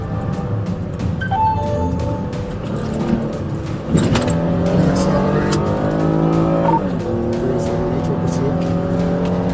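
A stolen Kia SUV flees police in Minneapolis, its engine revving and tires squealing through hard turns amid sirens, with a dispatcher's radio voice heard over it.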